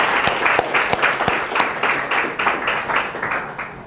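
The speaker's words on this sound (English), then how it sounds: "Give yourself a round of applause." Steady applause from a crowd, with a few sharper claps standing out near the start, continuing evenly throughout.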